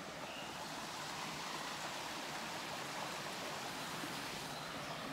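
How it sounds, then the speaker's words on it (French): A river flowing through the Saint-Hubert forest in Belgium: a close, steady broadband rush of moving water, constant and even with no pauses, heard alone. "Avec la rivière en face."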